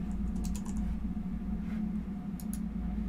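A few quick keyboard key taps on a computer keyboard are heard faintly over a steady low hum.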